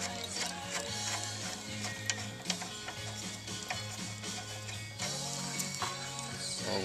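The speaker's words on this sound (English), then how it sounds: "all I'm going to do here, just loosen that nut." A ratchet loosening a nut on a car's coilover, a busy run of rapid metallic clicks and ticks, close and fairly steady, over a low background hum.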